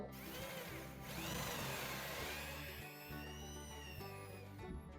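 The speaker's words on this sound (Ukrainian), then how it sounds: "І тепер направляємо сюди сверло і свердлимо до ось цього упора." A power drill whines steadily, boring a hinge hole into a wooden cabinet door, its pitch shifting slightly as it bites in, with a brief dip before continuing.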